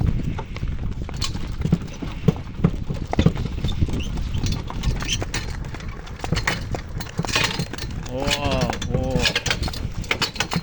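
Steady clip-clop of a mare's hooves on a downhill road with the rattle of a manure cart, continuous rhythmic steps at close range, and a few brief vocal sounds near the end.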